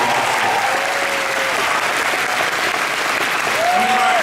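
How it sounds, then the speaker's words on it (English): Sustained audience applause at a San Diego Comic Con panel for Marvel's Inhumans, honoring Greg Foster; dense, steady clapping fills the hall throughout with faint voices and whistles threaded through the crowd. "clap for Greg"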